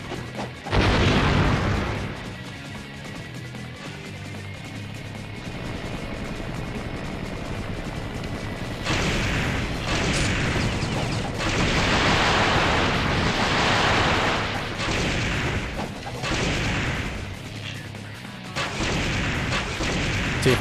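Bombs dropping and bursting in a video game: a long run of heavy, booming explosions that swell and fade in repeated waves, loud and rumbling throughout.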